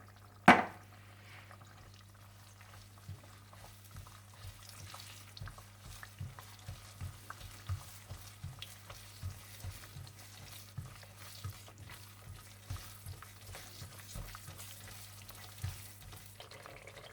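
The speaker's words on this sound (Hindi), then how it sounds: "जब तेल थोड़ा सा गर्म हो जाए तो आप इसमें सूजी डाल दें और इसमें आप पिसी हुई इलायची भी डाल दें और अच्छी तरह से भून लें।" Semolina and ground cardamom roast in hot oil for halwa, giving a steady low sizzle with repeated scraping stirs in an even rhythm. One sharp clatter comes near the start.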